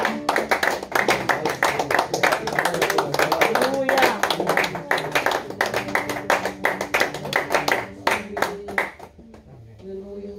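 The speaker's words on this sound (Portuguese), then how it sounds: "Que a gente possa dar um aplauso ao nosso Senhor." A church congregation claps in praise during a celebration service, crisp rhythmic hand claps in a steady beat, with voices calling out and talking over them until the clapping thins out near the end.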